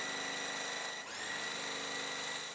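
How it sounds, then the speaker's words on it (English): A sewing machine stitching a quilt block runs in a steady, close, high-pitched whir with a rapid mechanical rhythm, dipping briefly midway before continuing at full speed. "So with this one, I'm gonna sew like this."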